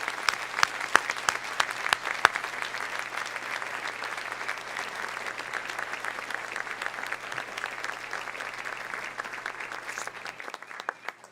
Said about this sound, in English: please offer a round of applause to all of tonight's winners